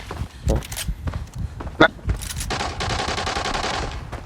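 Rapid automatic gunfire in the shooter game Arena Breakout comes in short bursts and then a sustained stream of rattling shots, with footsteps, under a player talking excitedly.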